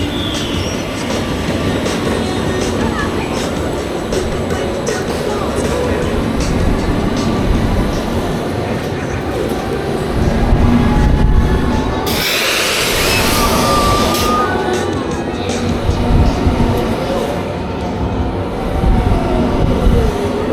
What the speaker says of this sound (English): on reverse time at Great Yarmouth Pleasure Beach. A very spinny flat ride.